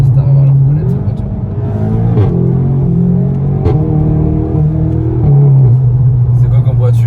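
Volkswagen Golf 8 GTI tuned by Shiftech accelerating, a loud, close engine drone rising through the revs with brief dips at shifts, while people talk over it.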